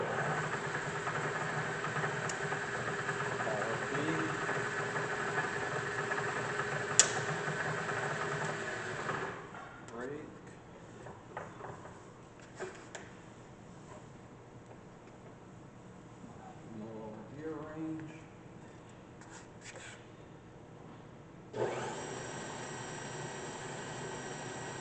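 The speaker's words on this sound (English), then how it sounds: "That is our 9 by 32 inch Bridgeport single phase milling machine." A 9 by 32 inch Bridgeport Model J round over arm single-phase vertical milling machine hums steadily nearby, then winds down to a quieter stretch with faint mechanical shifts before its motor comes back on.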